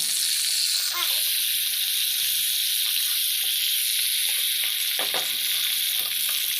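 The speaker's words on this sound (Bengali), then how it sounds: "মাছটা এক পিট ভাজার পর মাছটার সাথে সাথে আরেক পিট উল্টে দিলাম" Tilapia fish fry in hot oil in a pan, giving a steady, close sizzle and hiss with occasional soft scraping as the pieces are turned.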